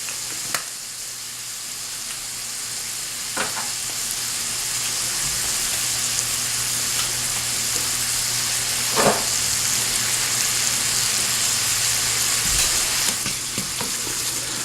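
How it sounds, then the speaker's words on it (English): Steak frying in a pan as it browns after a dusting of salt and pepper, a steady close sizzle running throughout with a few sharper crackles and pops breaking through. "it's going to take us about 5 minutes to get the steak browned"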